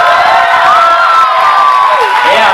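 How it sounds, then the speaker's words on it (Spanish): A crowd at a Rumbafest dance show cheers and whoops loudly and continuously, shrill voices sustained throughout, with little distinct clapping audible. "otro fuerte aplauso para ellos, por favor"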